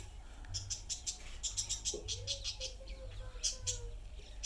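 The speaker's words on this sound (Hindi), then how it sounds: "अभी तोता बोल रहा है।" A parrot calls repeatedly in a lit courtyard at night, giving clusters of sharp, high chirps and a drawn-out whistled note over a steady low hum.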